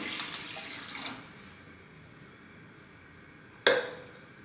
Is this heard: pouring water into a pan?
yes